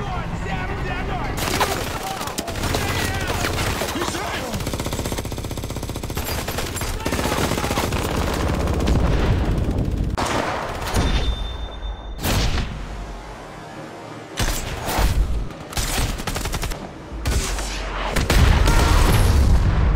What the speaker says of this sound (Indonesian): tiba-tiba pasukan Durov terkena tembakan yang berasal dari hutan